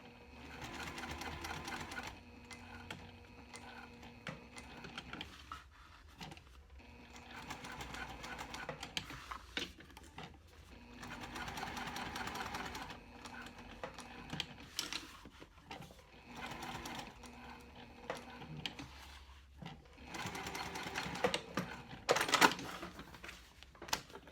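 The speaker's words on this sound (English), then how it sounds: "I'm gonna just stitch the tag on to what will be the outside piece" A sewing machine stitches a tag onto the outside cork piece of a clutch wallet in several short, fairly quiet runs of rapid stitching with pauses between them, and faint speech is audible at times.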